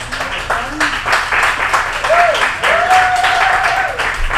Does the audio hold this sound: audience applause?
yes